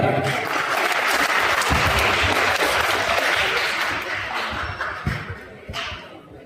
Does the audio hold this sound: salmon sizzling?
no